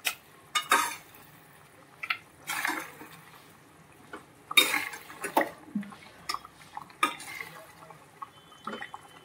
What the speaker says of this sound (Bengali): এই চামচটা দিয়ে তুলে নিই কিছুটা